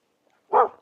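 A dog gives a single short bark close by, a greeting on a riverside trail walk, with quiet before it.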